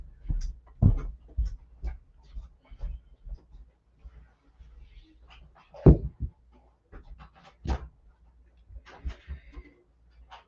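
Dogs panting indoors in quick, breathy, irregular bursts close by, with a few sharper louder huffs and soft movement sounds between them.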